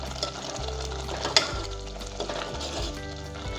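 Tomato masala paste frying in a pan for chhole, a dense close sizzle with bubbling spatters and stirring scrapes, one sharp clink partway through.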